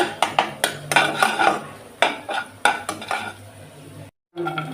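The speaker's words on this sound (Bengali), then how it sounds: "প্রথমে কড়াইতে তেল গরম করে ডিমটা ভেজে নেব" Egg frying in hot oil in a wok for egg chowmein, with sharp metal scraping and stirring clatters in a quick irregular series over a steady close sizzle, then a brief silence before the sizzle resumes.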